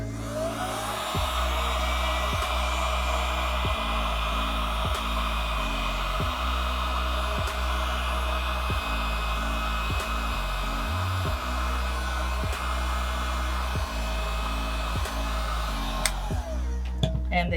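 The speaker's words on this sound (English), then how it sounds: "the next one we're gonna show you is with our heat gun" A heat gun blows over poured resin to pop surface bubbles, giving a steady whooshing fan-and-motor drone that is close and constant, with a few brief clicks and shifts as it moves.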